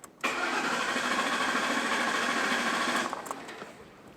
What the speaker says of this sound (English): I'm going to turn it over about 4 puffs, and we'll see what kind of compression this thing's making